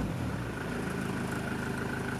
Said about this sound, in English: Also has an aftermarket exhaust, so it's a little bit louder than these would normally be.